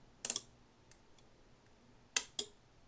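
Two relays inside a Kenwood PWR18-2TP power supply click together in sharp pairs, one double snap, a pause with faint ticks, then another close double click in a quiet room.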